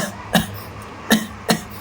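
Three short, sharp coughs, close by, spaced irregularly with quiet gaps between them.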